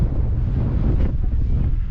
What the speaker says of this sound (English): It's getting pretty windy now.